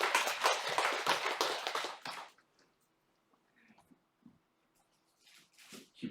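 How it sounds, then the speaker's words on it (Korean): A church congregation claps together in a dense burst for about two seconds, then it cuts off to near silence with only faint scattered rustles and small noises afterward. "우리 하나님께 영광의 박수 하겠습니다."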